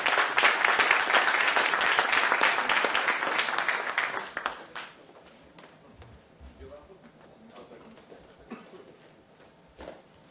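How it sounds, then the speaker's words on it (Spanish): A room audience applauds to welcome a speaker at an evening civic event on political control and citizen participation, the broad clapping loud for about four seconds before fading into quieter scattered claps and murmuring. "Le damos la bienvenida con un fuerte aplauso"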